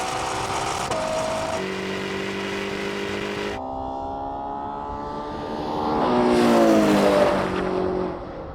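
A Ferrari Purosangue drives past, its engine droning steadily with shifting gear tones, then swelling louder as it passes close before easing off.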